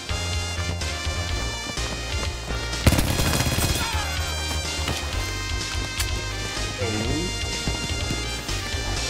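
Rapid bursts of Battlefield V gunfire on PS4 over a steady synthetic background hum, with a sharp loud blast partway through and scattered shots after.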